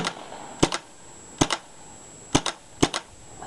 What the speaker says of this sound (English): And so now when you fire, I'm going to get down here so you can see. So you fire.